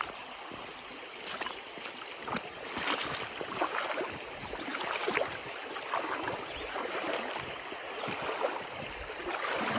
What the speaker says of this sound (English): The bridge is washed out, so we're gonna have to ford across the river.